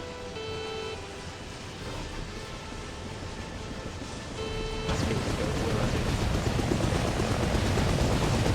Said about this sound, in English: Look at my helicopter.